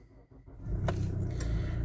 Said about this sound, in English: And if we start the car up